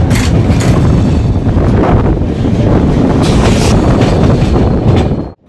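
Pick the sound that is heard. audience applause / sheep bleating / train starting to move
train starting to move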